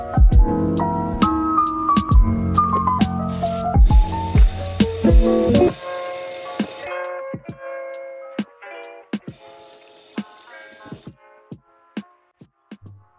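Tap water runs and splashes in a sink while a grimy nitro RC drift car engine from a Drift Missile RS4 is rinsed, with broadband gushing broken by clattering knocks and metallic ticks as parts are handled.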